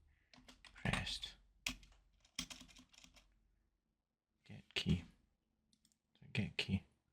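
Bursts of keyboard typing and clicking on a computer while building a title screen in Unreal Engine 5, several clusters of close, crisp keystrokes separated by short pauses, with no one talking.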